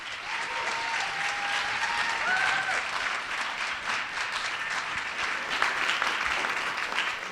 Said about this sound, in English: So can we just give a round of applause for all the teachers?